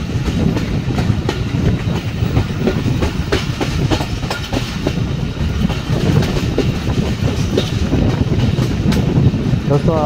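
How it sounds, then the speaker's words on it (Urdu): Zikri Express passenger train running on the railway, its steady clickety-clack of wheels on track loud and continuous with rumbling carriages, some wind buffeting the microphone. "سامنے سے آ رہی ہے ذکری ایکسپریس"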